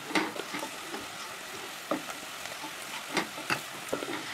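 Chilli powder mixture with ginger, green chilli and garlic being sautéd in a pan for Kerala-style beetroot pickle: a soft, steady sizzle broken by repeated scraping stirs, quiet and close, with no voices.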